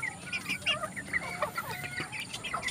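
Pakhoy chickens raised from two-day-old chicks cluck and chirp repeatedly in short, close, fairly loud calls that overlap steadily throughout, with no talking.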